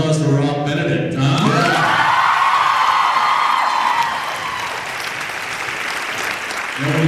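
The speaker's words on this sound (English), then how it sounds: "A better round of applause for Rob Benedict, huh?" A convention audience applauds and whoops loudly for actor Rob Benedict, dense sustained clapping with cheers that eases slightly toward the end as a voice returns.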